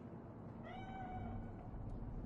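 A single drawn-out meow from a cat in the video game Cyberpunk 2077 rises over a low, steady ambient rumble, moderately faint and with no talking.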